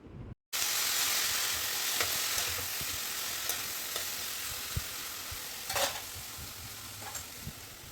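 Spinach and lentils fry and are stirred in a pan, a steady close sizzling hiss with intermittent soft spatula scrapes and taps, starting after a brief moment of silence, no voices.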